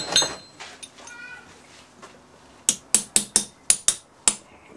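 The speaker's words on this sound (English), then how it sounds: "tap it around, it starts to move, loosens it up" A metal casting pattern being tapped loose in a sand mould, heard as a run of about seven sharp, bright knocks in quick succession, close and loud, after softer scattered taps and handling noises.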